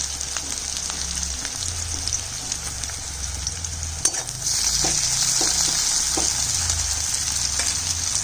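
Crushed garlic goes into a pan of browned onion and sizzles steadily, with a louder surge of frying midway and occasional stirring scrapes, close and with no talk.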